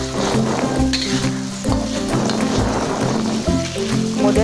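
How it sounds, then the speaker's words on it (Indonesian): Spices stir-fried with a little water in a hot pan for nasi rames give a loud, steady sizzle, broken by repeated scraping stirs of a spatula, with no talking. "Kemudian kita oseng-oseng lagi, terus dikasih bumbu ya teman-teman."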